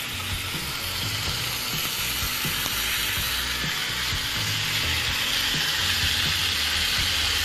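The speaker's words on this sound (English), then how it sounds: "You hear them down in there sizzling" Oxtails seasoned with salt and pepper sizzle in a pan, a loud, constant crackling hiss with light popping, close and without talk.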